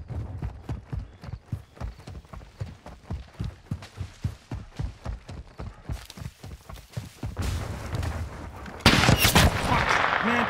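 Rapid, rhythmic bursts of gunfire in Call of Duty: Modern Warfare II, evenly spaced loud cracks giving way to denser, heavier firing and a sharp, loud shot near the end.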